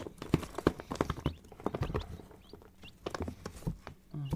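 Soft, repeated peeping of newly hatched chicks in an incubator with scattered clicks and taps, fairly close, no talking.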